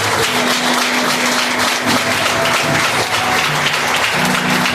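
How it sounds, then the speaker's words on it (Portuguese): A church congregation claps continuously through the whole stretch, a dense, steady wash of applause in a reverberant hall with a faint sustained tone underneath and no clear speech. "Irmãos, as palmas que exaltam o Senhor Jesus."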